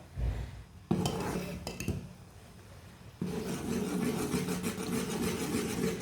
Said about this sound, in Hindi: इस तरह फेंटते हुए पका लेना 2 मिनट तक